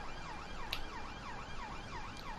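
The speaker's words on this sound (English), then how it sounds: "Police sirens going off in the background" A police car siren wails in the distance during a simulated ScotRail Class 380 train run from Newton to Glasgow Central, its smooth rising and falling tone repeating steadily over a quiet background with no talk.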